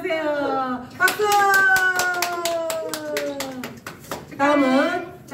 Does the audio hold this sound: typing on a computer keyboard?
no